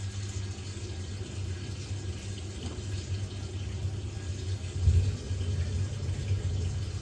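Steady rush of running water from a tap feeding a gas boiler, continuous and moderately loud, with a slight surge near the end.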